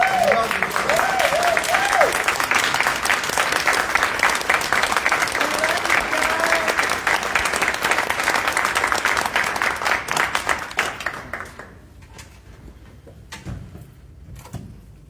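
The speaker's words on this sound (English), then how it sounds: "give Ms. Wingate a standing round of applause" Standing ovation for Ms. Wingate at a public library board meeting, a loud, dense room-wide round of clapping with some voices, holding steady for about eleven seconds before dying away to a few scattered claps.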